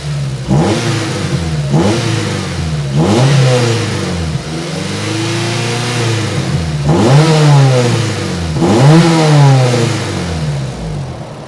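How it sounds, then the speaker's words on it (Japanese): A Honda Integra Type R (DC2) engine revs up repeatedly, rising and falling in several loud bursts, settling back to a steady idle between each blip. "ちょっとエンジン吹かすけど、特に異音も何もなく回転数も安定してるんで。"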